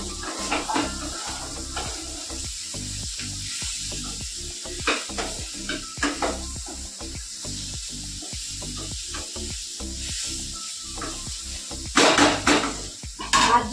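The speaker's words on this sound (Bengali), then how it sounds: "ঠিকঠাক করে কষাতে হবে।" A Bengali dish being stir-fried (kashano) in a pan, with sizzling hiss and repeated rhythmic scrapes and clinks of a spatula against the pan, close and clear.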